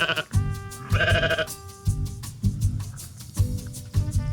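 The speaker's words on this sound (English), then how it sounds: "that's a big sheep." A sheep bleats repeatedly and close by, with long wavering calls coming again and again in a steady series.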